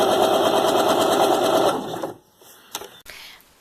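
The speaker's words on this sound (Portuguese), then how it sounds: "Vai ajeitando e vai costurando." A sewing machine runs fast and steady for almost two seconds while stitching fabric for a book-style toiletry bag, then stops, followed by a few small clicks and handling sounds nearby.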